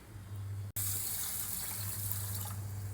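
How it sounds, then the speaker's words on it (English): Running water splashes steadily into a sink or bowl while rice and lentils are washed, a continuous wet rush with a brief break near the start. "So we'll wash the rice and the dal separately"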